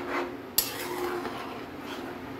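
A utensil scrapes and clinks in a pot while white mutton yakhni pulao rice is mixed, one sharp metallic knock followed by soft, faint stirring scrapes with no talk.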